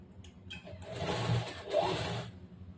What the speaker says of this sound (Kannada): ಇಲ್ಲಿಂದ ಒಂದು ಹೊಲಿಗೆ ಹಾಕೊಂಡ್ ಬರ್ಬೇಕು